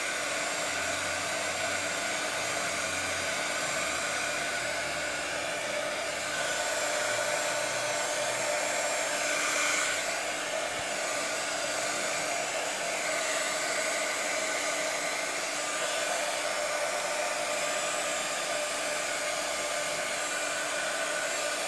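A hair dryer blows steadily to dry a handmade craft gift box decorated with polymer clay lace texture. It gives a loud, continuous whir that runs alone from start to finish with no break.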